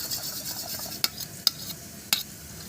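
Potatoes tossed in a pan with salt and turmeric, a low frying hiss under three crisp metallic spatula scrapes spaced about half a second apart, close by with no voices.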